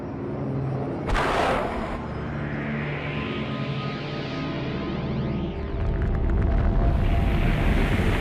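The atomic bomb explosion over Hiroshima is rendered as a loud, sustained roaring rumble with a sharp burst early on and a swelling surge near the end, with no voices.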